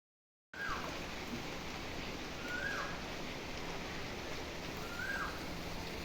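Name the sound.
rain falling in the evening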